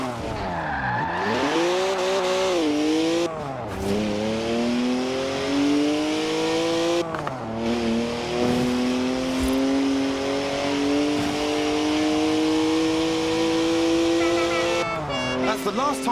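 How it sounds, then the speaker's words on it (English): A BMW 1M with a 3-litre twin-turbo straight-six making 335 horsepower, driven in Forza Horizon 4, revs hard and sweeps up and down through gear changes while drifting, with tire squeal running steadily underneath. "3-litre straight six, 335 horsepower, 2 turbos, and as much sideways action as you like."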